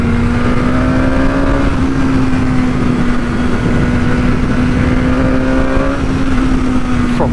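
A 2021 BMW S1000R motorcycle accelerating hard, a loud steady engine drone holding near one pitch with small shifts, buried in strong wind roar close to the rider.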